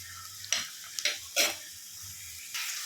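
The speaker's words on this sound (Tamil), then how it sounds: "இப்போ வெங்காயத்தை போட்டாச்சு. நல்லா வதக்கி விட்டுக்கலாம்." Sliced onions sautéing in hot oil for a Nagercoil-style beef gravy, a soft steady sizzle broken by a few sharp scrapes and clinks of a spoon stirring the pan, close and fairly quiet.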